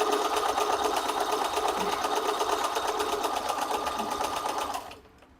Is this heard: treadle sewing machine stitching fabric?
yes